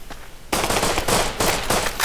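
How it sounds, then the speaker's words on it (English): Gunshots from a P250 pistol in the survival game Rust, a quick run of loud, sharp shots following a quieter stretch, close and punchy with no talk over them. "See if I can snipe this motherfucker."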